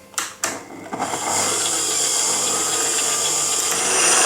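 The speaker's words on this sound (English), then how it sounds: "using a hand mixer or a stand mixer, we're just going to beat these until they start to froth up" An electric hand or stand mixer beats egg whites to a froth for a berry meringue wreath. A few short knocks come first, then a steady, loud whirring drone that runs on alone.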